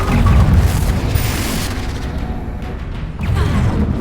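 A Confringo spell explodes in the Hogwarts Legacy video game, a loud deep boom with rumbling decay, then a second swelling blast near the end.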